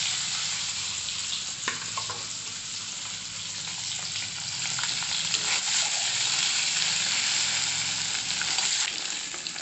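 An egg rubbed with turmeric and salt fries in a hot pan, giving a steady, loud, close sizzle with crackling that runs through the whole stretch without talk.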